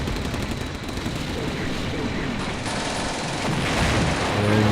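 Artillery in the video game Combat Mission: Beyond Overlord fires in a dense, rumbling barrage of overlapping booms and crackles, loud and continuous throughout, with no talk.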